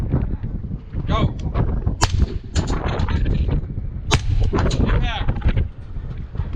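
Sharp, loud rifle shots from an 11.5 firing 55 grain rounds at a rifle match, several cracks in irregular succession among other nearby gunfire and faint voices.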